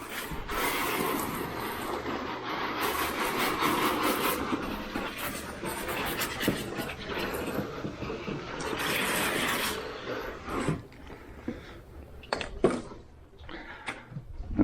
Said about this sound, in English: I'm just going to spray everything down